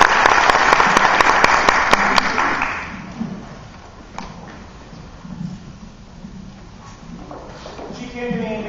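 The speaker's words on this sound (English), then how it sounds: "Give her a round of applause." An audience applauds a female performer at a Fleetwood Mac tribute show, a loud burst of clapping for the first few seconds that fades into quieter room noise and stray sounds.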